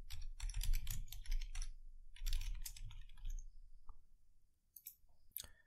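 Typing on a computer keyboard to search in Azure, two quick bursts of close clattering keystrokes followed by a few scattered clicks, with no talk.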